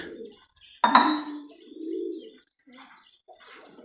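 A red-eyed female Giribaz high-flyer pigeon from Rajshahi gives a few soft coos close by, with brief chirpy notes and a quick flutter, alongside someone talking.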